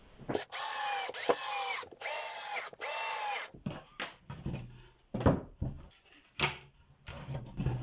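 A power drill drives screws into wooden support bars for a router base, sinking the heads flush: long steady whirring bursts in the first half, then shorter revving spurts and screw-seating grunts, close and loud.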